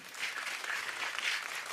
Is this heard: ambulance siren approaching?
no